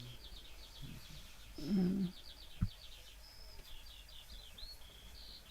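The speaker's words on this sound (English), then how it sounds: "Hear the birds outside." Small birds chirp and trill continuously in the background outdoors, faint and steady, with a brief murmur and a thump partway through.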